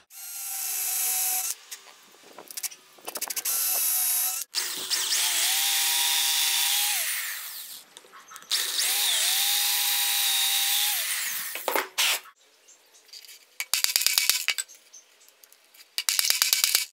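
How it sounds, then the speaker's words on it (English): Power drill boring into a wooden board to seat a wheel bearing for a homemade wooden camera rail, several loud whining drill runs of a few seconds each with short gaps and handling clatter between. "just going to drill this out like how I did this one"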